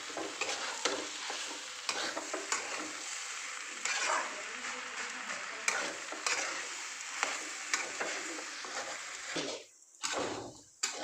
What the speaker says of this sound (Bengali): এই যে আমার সমস্ত মশলা দিয়ে সুন্দর করে কষানো হয়ে গেছে